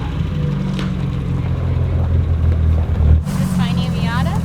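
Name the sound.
Mazda Miata engine running and revving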